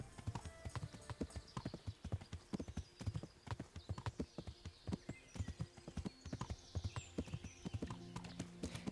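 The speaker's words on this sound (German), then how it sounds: "Ich reite mal unten lang." A horse trots in the medieval video game Kingdom Come Deliverance, its hooves clip-clopping in a steady, even rhythm. The sound is quiet and continuous.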